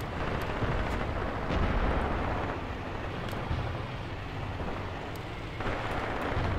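Mortar rounds burst in Graviteam Tactics, a World War II-era battlefield game, as a continuous rolling rumble with scattered sharp impacts, heard at a distance and fairly subdued.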